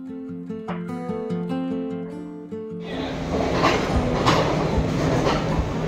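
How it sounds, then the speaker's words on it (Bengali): A train at a small hill-country station in Sri Lanka, on the Badulla to Colombo Fort line. Sustained tonal sounds give way to a loud, broad rumble as the train runs close by. "এইরকমই হবে আমাদের ট্রেন।"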